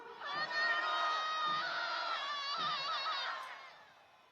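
A large crowd of protesters at a Gwanghwamun rally in Seoul shouting in unison, a loud sustained roar of many voices rising and holding for several seconds before fading slightly.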